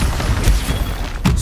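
A Confringo fire spell blasts in Hogwarts Legacy during spell-casting combat, a dense rumbling boom with a couple of sharper bursts near the start and end, loud and continuous through the short moment.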